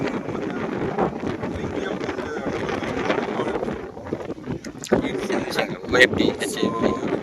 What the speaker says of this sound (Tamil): தண்ணி காற்று ஒரு பயங்கரமாக அடிக்குது